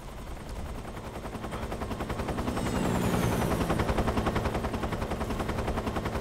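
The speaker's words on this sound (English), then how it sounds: "Because the helicopter's gonna come back shortly" A helicopter in the video game Metal Gear Solid 3 thunders close by, its rotor beating in a fast, steady chop that grows slightly louder and stays dense throughout with no talk.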